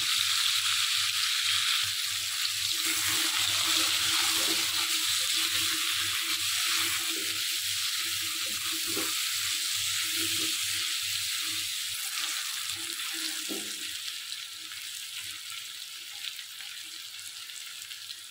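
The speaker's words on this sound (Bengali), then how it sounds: "চুলাতে তেল দিয়ে দিয়েছি, আলুটা ভেজে নেব।" Potatoes fry in oil with salt and turmeric in a pan on the stove, a steady close hiss and sizzle that runs unbroken and fades slightly near the end, with occasional soft stirring.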